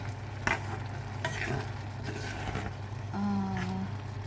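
Squid and oysters sauté in a pan with a steady sizzle, broken by a few scraping stirs of a utensil against the pan and a hum in the background.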